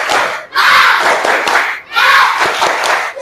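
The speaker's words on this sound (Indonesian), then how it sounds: "Semuanya ya. Siap? Tepuk semangat." A class performs the tepuk semangat cheer, two loud bursts of rhythmic group clapping mixed with shouted voices, separated by a short pause.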